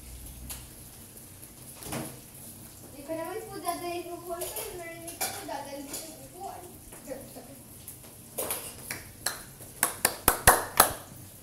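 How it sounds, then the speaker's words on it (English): A player's clapping sound during a game session with a water tower and tripwire arrows: after stretches of someone talking, about half a dozen crisp, close claps burst out in quick succession and grow louder toward the end. "That's my clapping sound."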